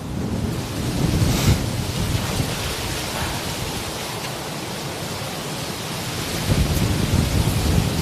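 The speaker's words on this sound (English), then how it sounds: "Wow, that breeze is" Strong wind blowing at Manchester Airport, a loud continuous rushing roar with gusts that rise and fall over several seconds and no voices.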